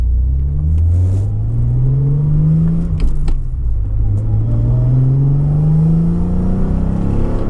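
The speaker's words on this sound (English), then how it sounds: "putting into it, just mid-throttle, not really pushing it out, it's just a lot of fun" A Nissan Z car engine pulls steadily at mid-throttle, its loud droning note climbing in pitch, dropping at a shift near three seconds, then rising again with a close, continuous rumble.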